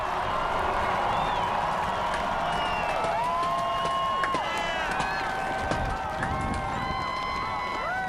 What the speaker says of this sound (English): The immense crowd salutes and applauds the 44th President, Barack Obama, after that inaugural address on the west front of the Capitol.